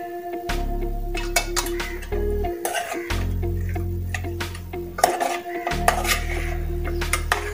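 Spicy Kokani chicken masala with turmeric and garam masala being sautéed in a pan, utensil clinks and scraping of stirring repeating in close, busy bursts with a low background hum.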